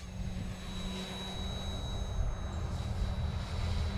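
A steady engine drone with a thin high whine from an Align T-15 RC helicopter hovering nearby, holding at an even level throughout.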